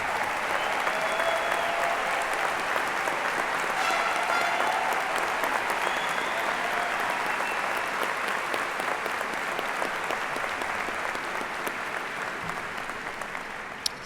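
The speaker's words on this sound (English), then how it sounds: "Let's give them all a great round of applause." A crowd gives sustained applause at the Liberty North High School commencement in May 2022, dense clapping that stays loud for many seconds and then slowly thins toward the end.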